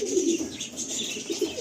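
Kalshira pigeons in a loft give soft, low cooing calls, a steady murmur of overlapping coos with faint chirps, close and continuous throughout.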